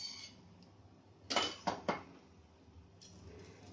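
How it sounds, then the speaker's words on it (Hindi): A spoon of ghee is added to a metal pressure cooker, giving three quick, close metallic clinks of spoon against pot in an otherwise quiet kitchen. "कुकर मैंने रख दिया है, मैं इसमें 1 चम्मच घी डाल देती हूँ।"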